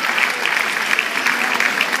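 Steady, dense applause from an audience at a public commemoration event in Florence, sustained and fairly loud throughout with no voices over it.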